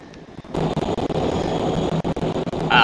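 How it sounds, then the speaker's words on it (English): A ship engine in the Roblox game Shipping Lanes gives off a loud, steady roar that starts abruptly and holds close and constant, with brief dips near the end. "the engine sound is so loud"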